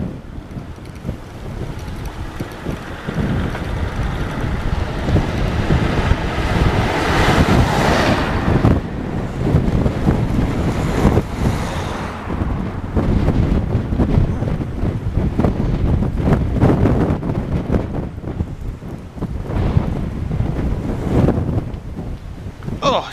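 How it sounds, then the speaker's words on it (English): Strong wind buffets the microphone continuously during a bicycle ride, a loud rumbling roar that rises and falls throughout. "Oh, it's a bit windy here."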